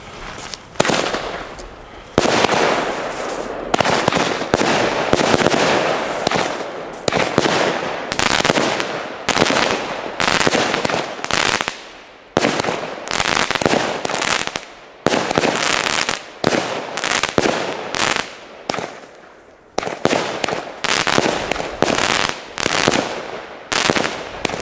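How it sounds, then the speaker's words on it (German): A Klasek Permon C2520P 25-shot firework battery fires outdoors, a rapid, continuous series of loud bursts and crackling reports that runs for about twenty seconds with only brief gaps, heard close and without speech. "Schöne kleine 25 Schuss Batterie."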